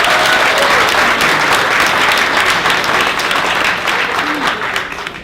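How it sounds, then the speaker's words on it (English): Loud, dense applause from an audience at a political campaign kickoff speech, honoring women, sustained for several seconds and tapering slightly toward the end, with faint voices mixed in. "let's have a round of applause for the women"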